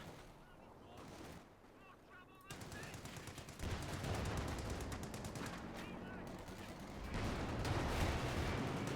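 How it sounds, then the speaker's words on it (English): Dense bursts of machine-gun and rifle fire crackle through a Company of Heroes 2 battle, loud and continuous with heavier booms mixed in, building in intensity toward the end. "Someone's shooting us!"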